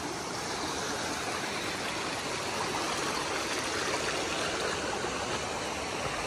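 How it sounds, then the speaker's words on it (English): A mountain stream with a waterfall along the Appalachian Trail rushes in a steady, dense roar that stays constant and fairly close throughout, with no voices. "It's a mountain stream with a waterfall."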